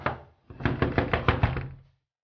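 Knocking on a door: a run of about ten firm, evenly spaced knocks lasting roughly a second and a half, close and fairly loud, with a short voice just before them.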